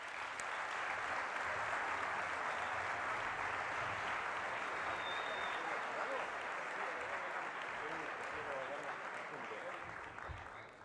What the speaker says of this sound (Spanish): Lo recibimos entre todos con un muy fuerte aplauso